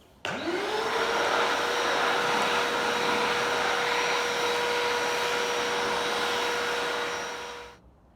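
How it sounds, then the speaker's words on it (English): A vacuum cleaner starts up abruptly and runs steadily on a garage floor with a loud, constant whine, then winds down near the end. "So let's vacuum."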